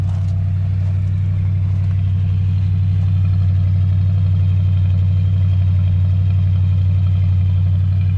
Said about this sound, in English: It's really interesting to listen to this car when it goes through its warm-up.